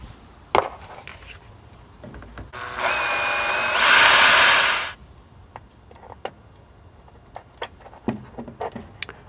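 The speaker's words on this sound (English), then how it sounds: "I'm going to drill a pilot hole first, a small one, exactly where I want it" A power drill whirs for about two seconds boring a small pilot hole while fitting a WiFi reversing camera, its pitch rising as it bites, then stops; quiet handling noises before and after.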